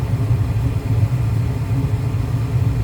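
Lennox furnace motor running steadily after its thermostat rod was sanded and its pressure switch connections checked, a continuous low hum and rumble that stays even and close throughout.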